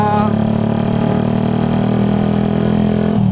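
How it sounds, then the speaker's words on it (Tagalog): A Yamaha Mio scooter with an open-pipe exhaust idles loudly and close, a steady buzzing drone with a strong low throb that dips briefly near the end. "feeling ko lang mas malakas yung motor ko pag naka-open pipe"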